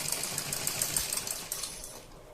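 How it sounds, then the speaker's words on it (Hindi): Sewing machine stitching suit or kurti lining fabric, a fast steady run of close, even stitch clatter throughout with no talking, fairly quiet and near. "इस तरह से हम सिलाई लगाएंगे।"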